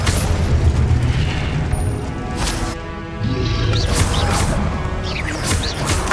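Incendio fire spell cast during combat in Hogwarts Legacy, giving loud booming bursts and crashing impacts over a busy, noisy battle background.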